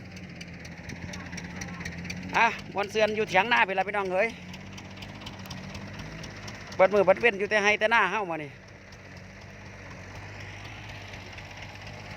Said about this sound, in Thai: บรรยากาศรถไถดันดิน ปูสะ ปรับหน้าดิน